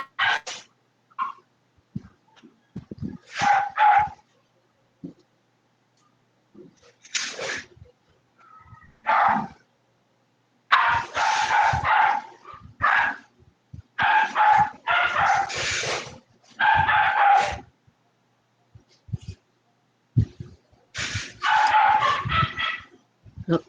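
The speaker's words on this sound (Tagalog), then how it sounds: "Medyo maingay ang aso talaga. Ayaw huminto ng mga aso." Dogs bark in repeated bursts during an online class session, irregular clusters of barks and yips separated by quiet gaps.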